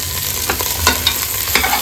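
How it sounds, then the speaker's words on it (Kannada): A spoon stirs turmeric and salt into mutton paya, a goat leg soup, in a pot. Close scraping strokes come every half second or so over a soft sizzle, with no voices. "ನೀಟಾಗಿ ಒಮ್ಮೆ ಮಿಕ್ಸ್ ಮಾಡ್ಕೊಳ್ಳೋಣ"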